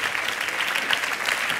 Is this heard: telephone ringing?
no